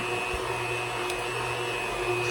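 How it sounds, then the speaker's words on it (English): An electric meat grinder grinds pork butt for homemade breakfast sausage, giving a steady, continuous motor drone with a faint mechanical hum throughout and no voices. "Now to get it all ground up. Here we go with the grinder."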